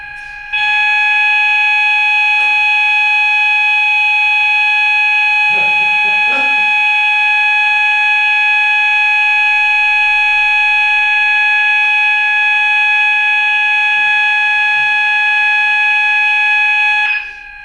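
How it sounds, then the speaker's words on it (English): A building fire alarm under test sounds as a loud, continuous electronic tone that holds steady for about sixteen seconds before cutting off, with brief faint talk and movement in a lecture room underneath. "I think the fire alarm is being tested."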